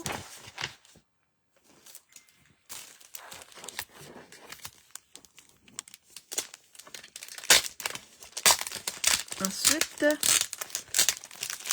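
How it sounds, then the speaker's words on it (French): Specialty textured paper crinkles and rustles as it is handled, with bursts of crisp crumpling and tearing-like crackles that grow louder toward the end while a voice speaks at times. "un papier spécialité qui s'appelle Soupçon de texture"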